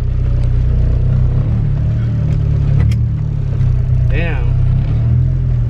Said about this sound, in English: Driving this clean EG hatch.